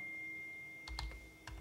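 A computer keyboard is being typed on during a Cisco 3850 switch upgrade. A short run of a few quiet keystrokes sits over a faint steady hum, and no one speaks.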